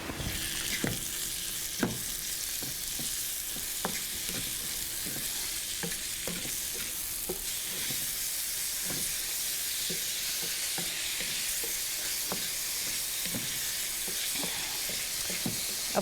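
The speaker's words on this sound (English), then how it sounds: "Here, a nice little sizzle." Steady close sizzling of blueberries, raspberries and blackberries frying in butter and sugar, with occasional sharp stirring clicks and pops over a constant hiss.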